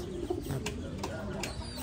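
A pigeon coos softly in a few low, throaty notes, close by, over a background of faint rustling and light noise.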